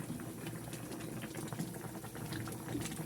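Water boiling in a cooking pot, a steady close bubbling and roiling with dense popping bursts throughout, quiet and alone.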